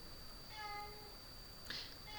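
A male pet cat meows softly once in a quiet indoor setting, with a faint second call near the end; the sound is low and close.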